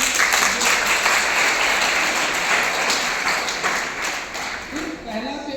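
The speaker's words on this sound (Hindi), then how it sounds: "उनके लिए ताली बजाइए।" Audience applause at a biodiversity quiz and forest service exam event, applauding an official: dense, loud, steady clapping from many hands that fills the whole stretch, easing slightly toward the end as a voice begins to come through.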